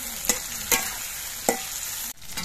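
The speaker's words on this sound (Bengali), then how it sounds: "আমি দুবারে ঢেঁড়সগুলো ভেজে নেব।" Okra frying in a pan, a steady close sizzle broken by a few sharp stirring scrapes and clatters, with a brief dip in the hiss near the end; no voices.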